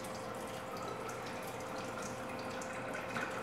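Water pouring and draining steadily from a batch of soaked sticky rice in a kitchen, a continuous close splashing trickle with no talk.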